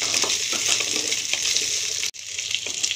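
Onion, green capsicum and green chillies sauté in a pan for restaurant-style chicken chilli, giving a steady close sizzle with light stirring. It breaks off briefly near the end, and no one speaks.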